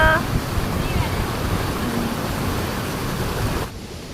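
Steady rushing water of a cold river in Nuwakot, Nepal roars continuously, broad and fairly loud, like a stream close by, before dropping off abruptly near the end.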